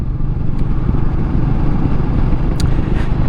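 Royal Enfield Meteor 350 motorcycle on an evening ride: a steady, loud low engine thump and wind rush heard continuously from the rider's position, with a couple of brief sharp clicks.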